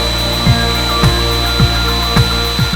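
Knife blade ground on a medium grit sanding belt, a steady whirring belt hum with a hard grinding swell at regular half-second strokes as the edge is pulled across, loud and close with no talk.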